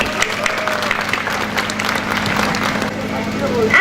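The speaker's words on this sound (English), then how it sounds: "let's give them all and every single person a big round of applause for helping us" A big round of applause from an audience at a medical college welcome program, a dense, sustained wash of many hands clapping at full volume, with some crowd noise mixed underneath.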